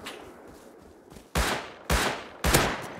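Three loud gunshots crack out in the survival game Rust, evenly spaced about half a second apart, each a sharp broadband blast with a short ringing decay over a quiet background.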